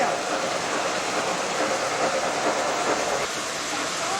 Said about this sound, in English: And again, Mighty Mo with the Stewartstown train.